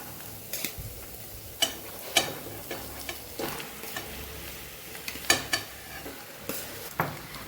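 Spatula scraping and stirring in a pan as mashed potato is mixed with red chilli powder, coriander-cumin powder and turmeric for pakoda bites; uneven scrapes and soft taps recur every second or so over a low sizzle.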